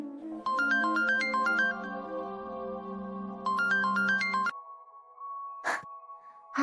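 A phone ringtone in a Marathi TV serial scene plays a bright electronic melody twice in quick repeated phrases, then gives way to a steady tone broken by a couple of short noises.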